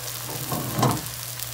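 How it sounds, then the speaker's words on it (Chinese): Filipino eggplant omelette, tortang talong, frying in a pan after being flipped, with a steady close sizzle and a brief louder burst of crackling partway through. "再翻过面，再给它煎一分钟左右"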